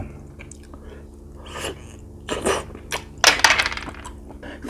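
Chewing on large, hard-shelled shellfish, with several separate wet crunching bites in irregular bursts up close, growing louder toward the end over a quiet background.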